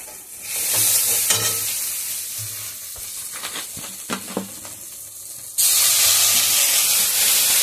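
Water goes into a sizzling curry in a pan while it is stirred. Close scraping and spoon clatter run over a frying hiss, then a sudden loud burst of steamy hiss takes over near the end.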